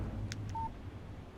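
Short electronic beep tones of a phone text message alert in the video game Alan Wake, a couple of quick chirps followed by a brief clear tone over a quiet low hum.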